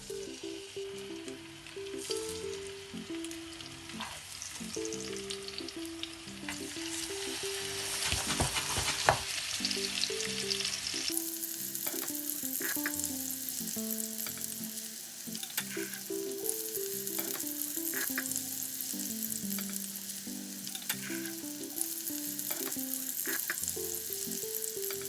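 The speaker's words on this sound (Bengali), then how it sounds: "তেলটা ভালো করে গরম হলেই এবার দিয়ে দিচ্ছি এক এক করে মাছগুলো।" Koral fish pieces sizzling steadily in hot oil in a pan, a dense continuous frying crackle that grows fuller as more pieces go in, with no talk over it.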